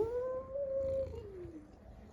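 A hungry orange cat gives one drawn-out, wavering meow that rises and then slides down in pitch. It is close and fairly clear over faint background noise.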